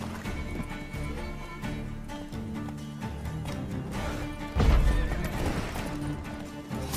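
A horse whinnies loudly in The Witcher 3 over rapid clip-clopping hooves and clashing, chaotic game sounds, with a sudden heavy impact midway.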